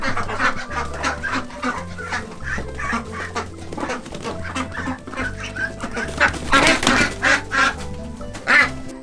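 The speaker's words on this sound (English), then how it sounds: "They're not super, super loud like geese, but they're pretty rambunctious, especially when I get the ducks rumbling like this." A flock of ducks quacks loudly and rambunctiously near their duck house, with dense overlapping calls throughout and a steady low hum underneath.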